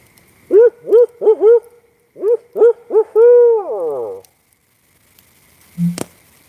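A person imitates an owl with a series of hooting calls in short groups, ending in a longer wavering hoot, followed by quiet, distant frogs and a faint distant thump.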